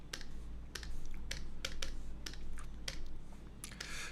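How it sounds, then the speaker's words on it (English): Numbers are tapped out on a calculator keypad in quick, irregular bursts of a dozen or so close, sharp clicks over a low steady hum, with no talking. "then we get the answer easily by typing everything into the calculator"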